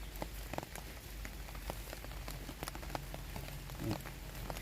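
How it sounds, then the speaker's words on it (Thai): Steady rain falls in a Thai mushroom-growing plot, a dense, soft patter with scattered sharper drops, faint and continuous with no talk. "ฝนตกอย่างเงี้ยครับ"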